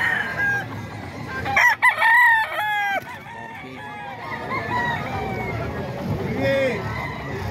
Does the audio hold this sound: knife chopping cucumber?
no